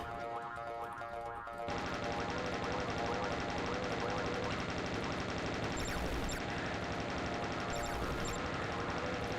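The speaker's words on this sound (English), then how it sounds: "Oh, it's the noise from the little spiders." Little spider monsters in a video game give off a loud, continuous chattering buzz with repeated springy, metallic pulses, starting abruptly after a quieter stretch of game noise and then holding steady.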